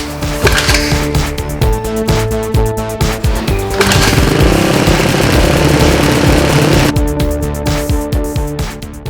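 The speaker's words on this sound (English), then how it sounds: "the engine ran for a few minutes, it's warm" Honda CRF450R motorcycle engine running loud and close, a rough, throbbing idle with repeated throttle blips and a sustained rev in the middle before settling back.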